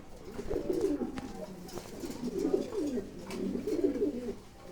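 Pigeons cooing in a loft, three soft rolling coo phrases at steady intervals, fairly close and alone without speech.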